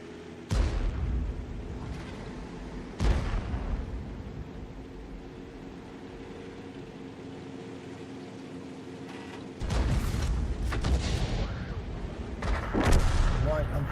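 Tank cannon fire in a tank battle video game: a few heavy booming shots with long echoing tails, one early, another soon after, then a cluster of louder blasts near the end over a steady engine rumble.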